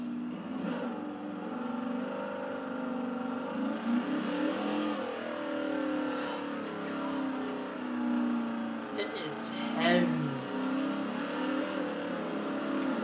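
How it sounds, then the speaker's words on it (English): A heavy, boat-like car's engine rumbles and roars as the throttle is blipped, with low revving surges rising and falling throughout, while someone talks over it. "Man, this thing roars every time you put"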